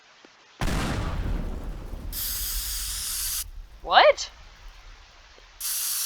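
Spray paint hissing from a can in the video game Teardown, several sustained bright bursts of spray separated by pauses, loud and close, with a brief spoken word in between.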